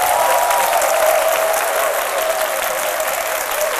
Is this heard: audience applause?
yes